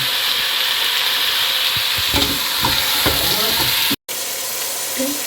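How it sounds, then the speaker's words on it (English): Chili hits a pan of chicken curry frying in oil, setting off a steady loud sizzle with scraping stirs through the middle and a brief dropout near the end. "Now I put that chili."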